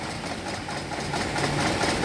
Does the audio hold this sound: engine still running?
yes